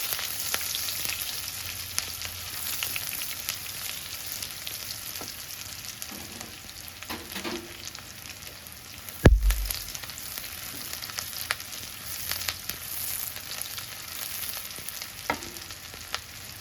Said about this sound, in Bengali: পেঁয়াজ কুচিগুলো হালকা একটু ভেজে নিচ্ছি কিছুক্ষণ।